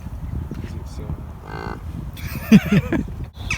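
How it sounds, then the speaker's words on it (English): A skinny cow at Tatton Park lets out a loud, drawn-out moo, with a few lower grunts and people talking quietly in the background. "And why is this cow so skinny, Jack?"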